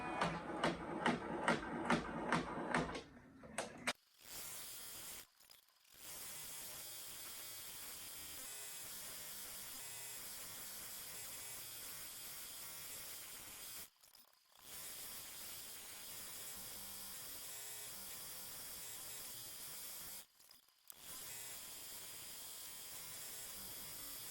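An embroidery machine stitches a logo onto a jacket, giving a steady, continuous high buzzing hum that runs for long stretches and stops briefly a few times, preceded by a short run of rhythmic beeps or clicks.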